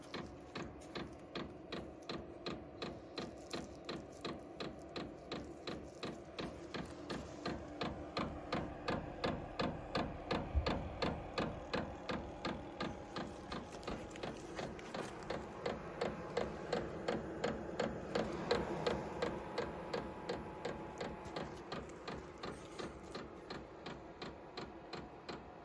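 HCalory diesel heater running inside an off-grid conex cabin, giving a faint, steady mechanical hum broken by rapid, evenly spaced ticking pulses that continue unchanged throughout, with no one speaking.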